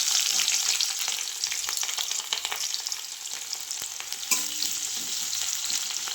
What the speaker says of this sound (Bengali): এই যে পেঁয়াজটা লাল লাল করে ভাজা হয়ে গেছে